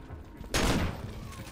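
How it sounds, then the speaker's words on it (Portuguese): A shotgun fires in a modded Resident Evil 4: one loud, heavy blast that bursts out and then trails off into a rumbling decay. "Esse, mano, tá com som muito gostoso essa shotgun aqui."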